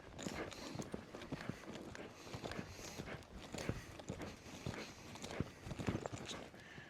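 A campdraft horse's hooves clip-clop in a quick, uneven rhythm on the ground as it works a cow, close and fairly faint, with scattered thuds and shuffles between steps.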